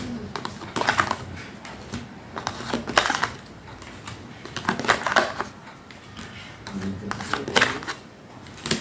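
Playing cards are laid out one after another on a table, giving a string of soft, quick slaps and rustles at an irregular rhythm, close and fairly quiet.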